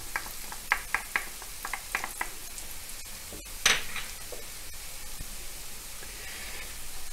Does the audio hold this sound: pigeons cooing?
no